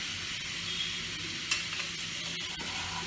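Pabda fish oil jhal masala with tomato frying in a pan, a soft steady sizzle broken by a few scraping stirs, heard close but quiet with no talk.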